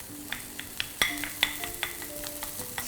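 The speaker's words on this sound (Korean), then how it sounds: "양파가 어느 정도 투명해지면은 리조또용 밥 넣고 한번 섞어줄게요." Risotto rice stirred into butter, garlic and onion in a pan over low heat, a soft sizzle under light scraping and clicking spoon strokes, close and quiet.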